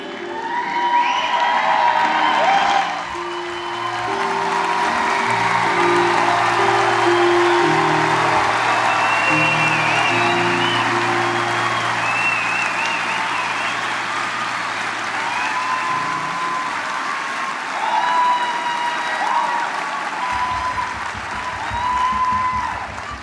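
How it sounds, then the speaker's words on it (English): A graduation ceremony crowd for the 2018 BBA graduates of the Cox School breaks into sustained applause with whoops and cheers, loud and steady for about twenty seconds before easing off. "One more round of applause for the 2018 graduates of the"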